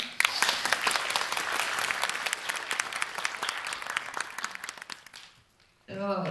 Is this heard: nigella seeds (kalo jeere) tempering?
no